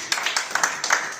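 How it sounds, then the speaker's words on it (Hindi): A church congregation claps along, a steady run of quick, rough hand claps filling the space at moderate loudness with no pause. "ताली बजाओ भाई।"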